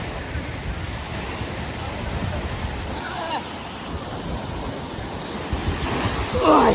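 Surf washes continuously onto a beach, with wind buffeting the microphone, a steady broadband roar that swells louder toward the end; no one speaks.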